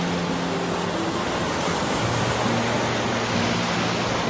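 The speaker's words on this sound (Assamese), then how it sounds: "নদীৰ পৰা সমান লেভেলত মানে এইফালেও বাঢ়ি আছে পানী" Floodwater from a swollen river in Assam spreading level with the bank over farm fields, a steady broadband rush of flowing water that stays near and constant throughout, with a faint low hum underneath.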